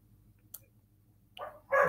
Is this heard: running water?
no